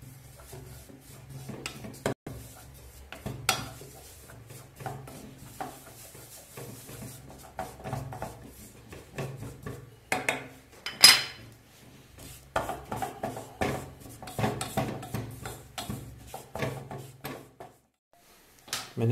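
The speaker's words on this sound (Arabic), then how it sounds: "غادي نضيفو هنايا الطحين، بعد ما معلق نحركو ضروري، لازم نحركو بسرعة باش نصاوبو الرو ديالنا" Flour being whisked into melted butter in a pot to make a roux for béchamel sauce: quick metallic scraping and clinking of a whisk against the pot, in irregular rapid strokes, close and moderately quiet.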